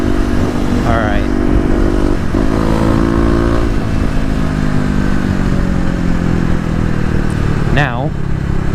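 A Kawasaki KLX250 trail bike fitted with a 13-tooth front sprocket cruises along a highway, its engine held at fairly high revs in a steady, loud drone with rushing wind noise throughout.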